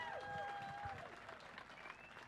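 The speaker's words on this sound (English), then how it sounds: "Give yourselves a round of applause, ladies and gentlemen" A crowd at a fishing tournament weigh-in on the St. Lawrence River applauds, clapping spread out and moderately distant, with whistles and cheering calls rising over the ovation.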